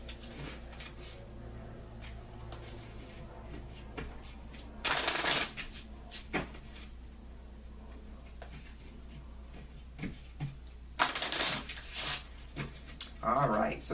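A deck of Lenormand cards is shuffled by hand in two brisk riffling bursts with scattered soft taps and card handling between, close and clear.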